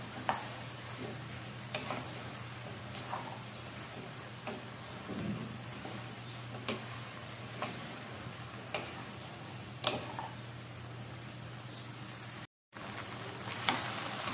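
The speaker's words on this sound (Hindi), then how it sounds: "इसको सौटे करना है। थोड़ी थोड़ी सी ये फ्राई हो जाए बस।" Okra and onions sauté in a pan with an even, steady sizzle, punctuated every second or two by soft taps and scrapes of a stirring spoon, with a brief dropout near the end.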